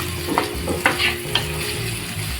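Chopped onion cooking with curry leaves in a hot pan, a steady close sizzle and fry punctuated by a few scraping stirs of the spoon.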